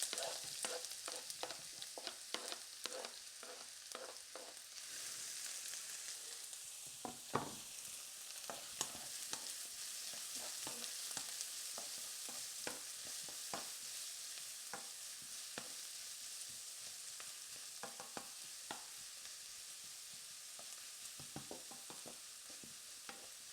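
Vegetables and pork mince fry in oil in a pan with a soft steady sizzle, broken by repeated scraping and clacking as the food is stirred. The sounds are fairly quiet and there is no talking.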